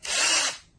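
A pink DEKOPRO 8V cordless drill with a 3/8-inch keyless chuck whirs in one short, steady burst of the motor, loud and close, then spins down quickly into quiet.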